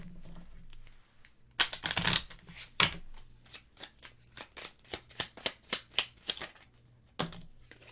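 Tarot cards are shuffled alone in several bursts: two loud riffles early on, then a rapid run of crisp, evenly spaced card slaps and a final short riffle, all close and clear.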